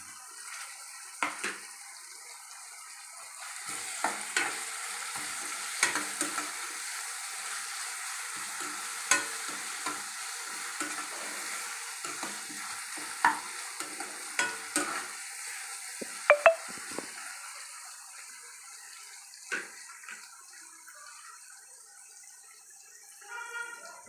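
Curry leaves hit hot oil in a pan for frying cabbage, giving a soft steady sizzle with scattered crackles, pops and stirring clinks, close and moderately quiet.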